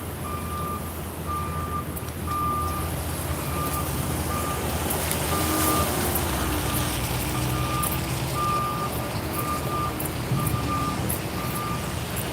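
A garbage truck backs up on a city street, its reversing alarm sounding a steady run of evenly spaced beeps over a constant rumble of engine and traffic.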